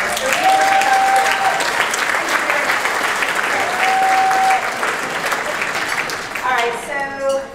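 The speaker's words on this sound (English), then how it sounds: "I would like for us to give them an encouraging round of applause to say thank you in advance." A room audience claps in sustained applause that stays loud and dense from start to finish, with a few brief tonal squeaks and a short rise of voices near the end.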